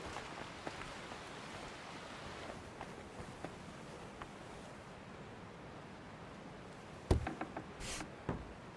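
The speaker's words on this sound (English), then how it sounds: "Bloody rain." Steady, soft rain hisses across a medieval countryside in the game Kingdom Come: Deliverance 2, with a few louder clicks and patters near the end.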